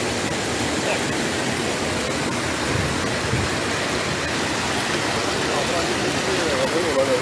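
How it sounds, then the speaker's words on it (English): Floodwater drains out of the Nariva swamp in Trinidad after severe flooding, a steady broadband rushing roar that holds evenly throughout, close and fairly loud, with no clear voices over it. "So this will be all the water draining from the Nariva swamp."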